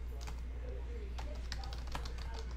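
Light clicking of computer keys being typed in short irregular bursts, quiet and close over a steady low electrical hum, with faint talk in the background.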